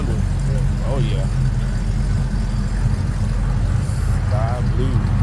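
A Ford Galaxie 500 at a cars and coffee meet in Las Colinas, Texas, runs with a steady low engine rumble over the crowd's chatter, while people talk close by.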